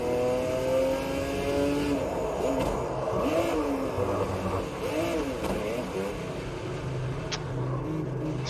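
Race car engine in the sim racing game Automobilista 2, a continuous loud revving drone rising and falling through gear changes, with a brief voice faintly underneath.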